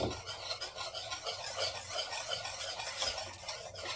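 A spoon whisks turmeric into a kadhi batter in a bowl, making a quick, continuous scraping and swishing rhythm up close for a few seconds, with no voices.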